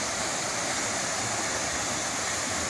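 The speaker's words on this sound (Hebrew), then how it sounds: "זה המפל השני." Jungle waterfall near Pai in northern Thailand, a steady broadband roar of falling water, loud and close, with no voices.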